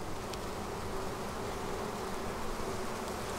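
Honey bees at an opened beehive fill the air with a dense, continuous buzzing hum, steady and fairly close throughout, with no voices heard.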